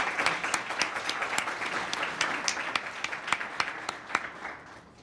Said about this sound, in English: Round of applause for the speaker.